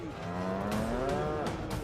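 Cows low in long, drawn-out moos at a crowded livestock show with nearly 2000 animals, one call overlapping another amid a constant busy hall background.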